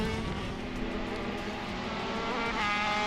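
Go-karts race through the last corners of a lap, a loose-handling kart among them, their engines whining loud and continuous with shifting pitch, close up and steady for about three seconds, with a faint hint of tire scrub.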